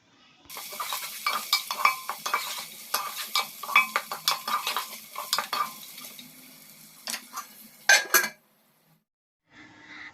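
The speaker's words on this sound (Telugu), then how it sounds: "పసుపు కూడా యాడ్ చేసేసి మొత్తం ఒకసారి కలిపేసుకుందాము" Meal maker pulao being stirred with turmeric in a pan, a spoon scraping and clinking steadily against the metal over a soft sizzle for about eight seconds, then stopping.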